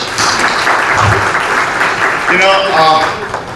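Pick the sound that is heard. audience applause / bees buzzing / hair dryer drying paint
audience applause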